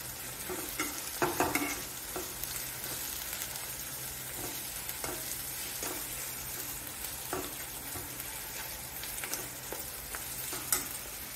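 Onions salted with rock salt fry in a pan, a constant soft sizzle with periodic crisp crackles and spoon stirs scraping at a regular pace, close and fairly quiet.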